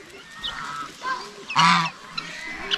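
A lone goose feeding among farm birds gives a few short honks close by, the last one loud and harsh, with quieter rustling between them.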